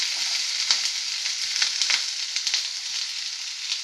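Chopped green chillies and onion hit hot gingelly oil and keep sizzling hard without a break, with scattered sharp pops and crackles over a dense hiss and no voices.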